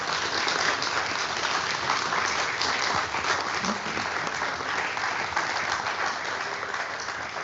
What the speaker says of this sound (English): please give a round of applause for the team here.